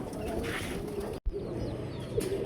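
Soft pigeon cooing close by, a steady low murmur with a brief dropout midway, plus faint chirps in the background.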